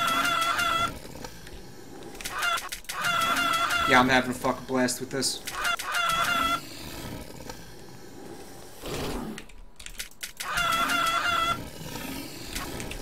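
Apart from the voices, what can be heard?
chicken sounds from infinite chicken ammo in a video game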